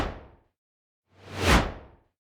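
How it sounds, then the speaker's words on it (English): A fast whoosh sound effect for editing: a brief fading swish at the start, then a single loud sweeping rush that swells and dies away within a second, with no voices. "2. Fast whoosh."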